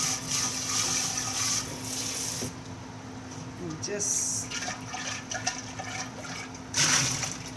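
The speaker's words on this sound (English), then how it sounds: "I'm going to give my jar a rinse with warm water" Warm water runs from a tap into a glass jar being rinsed out after kombucha brewing, a steady broadband hiss with splashing bursts, while a person talks over it.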